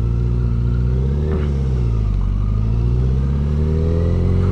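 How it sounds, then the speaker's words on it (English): A motorcycle fitted with a Yoshimura exhaust drones steadily and loudly up close, with one brief swell in revs partway through and wind rushing over the microphone the whole time. "I also want you to be able to hear the noise from the Yoshimura"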